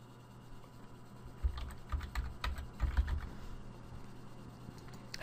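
Keys tapped on a computer keyboard while logging into a Windows XP Embedded administrator account, a quick burst of close, irregular clicks that tapers into faint scattered taps.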